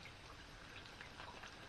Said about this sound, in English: But I wish it had stopped raining.